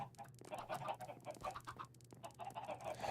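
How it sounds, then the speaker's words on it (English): Chickens cluck softly and steadily in a farming video game, a faint chatter of fowl calls continuing throughout over a low background hum. "Look at how much room these chickens have."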